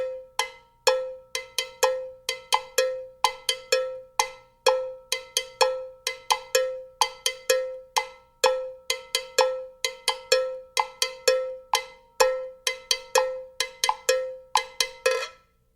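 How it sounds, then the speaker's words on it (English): A Latin cowbell is struck in a clave rhythm, with bright, ringing and muted strokes repeating in a lively, syncopated pattern, close and alone for about fifteen seconds. "And with the clave, it sounds like this."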